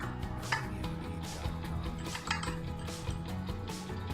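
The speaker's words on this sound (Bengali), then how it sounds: "চিনি আমি আমার বাড়ির টেস্ট অনুযায়ী দিচ্ছি 1 চামচ" A spoon adding sugar to a dish for steamed Bengali sandesh, with light repeated clinks and scraping against the dish at a steady pace, close and fairly quiet.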